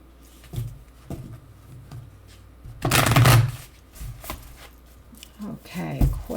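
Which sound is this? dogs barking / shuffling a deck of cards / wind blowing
shuffling a deck of cards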